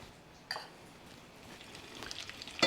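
Thin-sliced carrots frying in melted butter in a pan, a soft sizzle with a few sharp clatters of stirring and pan contact, near and fairly quiet.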